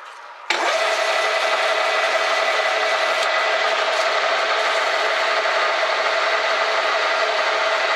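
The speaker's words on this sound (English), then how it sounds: "we'll just finish off that hole with some 600 grit" Steady, loud rubbing drone of 600 grit sandpaper finishing a hole in a Crosman 2240 air pistol muzzle brake, starting abruptly after a brief quiet moment and continuing unbroken, with no talking.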